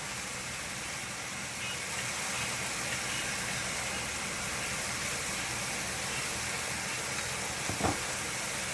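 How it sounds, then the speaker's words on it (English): Ground meat seasoned with salt and pepper sizzles in a pan, a steady soft hiss that continues throughout, with a brief clunk near the end. "cook the meat until it's not pink anymore, until it's nice and brown"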